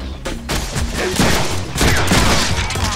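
Dense bursts of gunfire fill the Deadpool video game scene, loud and close, with rapid overlapping shots rattling continuously from start to finish.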